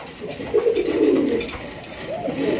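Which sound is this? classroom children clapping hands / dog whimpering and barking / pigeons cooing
pigeons cooing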